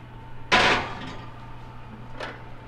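Oven door shutting in a home kitchen as a cottage pie dish goes in: one firm bang, then a softer knock a moment later, over a low steady hum.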